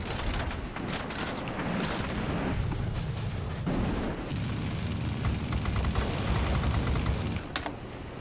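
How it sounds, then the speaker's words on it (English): A Vulcan cannon fires in the World of Warplanes video game, a dense, continuous rattling burst of rapid rounds over engine roar that carries on for several seconds before cutting off. "I love the sound of the Vulcan cannon."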